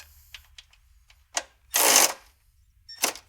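Ratcheting a 13mm socket to tighten the lower bolt of a Bilstein 8100 adjustable bypass shock on a Jeep Wrangler JL: a few short clicks, then one longer burst of ratchet clatter and a final short burst, close and fairly loud.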